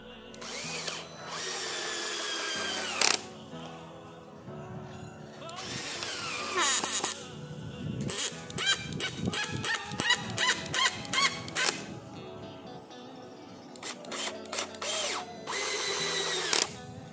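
Worksite CD331 20V cordless drill driving screws into mahogany without pre-drilling, several loud whirring bursts that rise and stop in turn, close up, with short pauses and brief sounds between runs.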